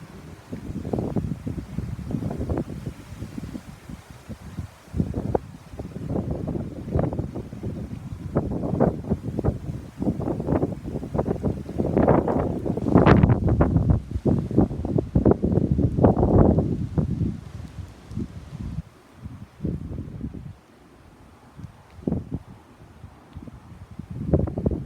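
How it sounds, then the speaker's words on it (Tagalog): Strong wind blows outdoors, roaring and buffeting against the microphone in long gusts that swell and ease across the whole stretch, loud and close with no voices. "Yep, it's windy."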